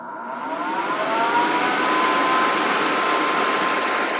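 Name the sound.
nail dust vacuum from AliExpress running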